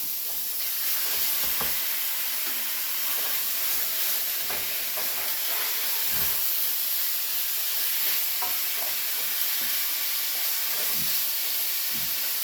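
Ground beef fries in a pan with a steady loud sizzle and hiss, broken by occasional scraping taps of a utensil stirring it.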